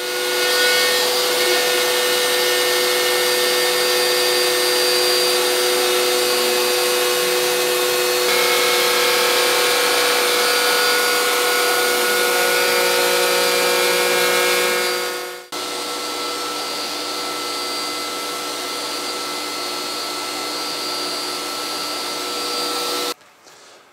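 An original X-Carve CNC router carves wood with a steady, loud, whining spindle hum and cutting noise that runs throughout, with a brief dip partway through and then continuous running again, and no voices.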